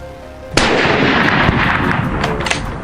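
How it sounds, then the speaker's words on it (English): A hunting rifle fires once at a wild boar in a forest at dusk. A sudden loud, close crack cuts into a quiet scene and is followed by a sustained rough roar of noise that slowly fades. "Thomas pulled the trigger without delay"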